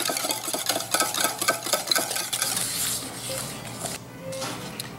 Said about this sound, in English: Now, we're gonna add sugar and keep on whisking